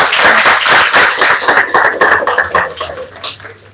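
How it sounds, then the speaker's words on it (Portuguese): An audience at an academic mechanical-engineering event at a federal institute gives a short burst of dense, close applause that thins out toward the end. "Obrigado aí pelas palmas"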